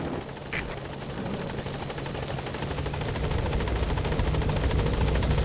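The Pequod helicopter arrives at a landing zone in Metal Gear Solid V, rotor blades thumping in a fast, steady beat that grows slightly louder and nearer as it approaches.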